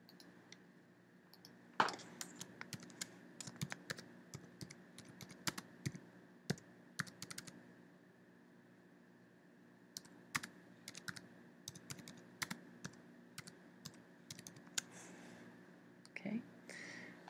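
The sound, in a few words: typing on computer keyboard to make a note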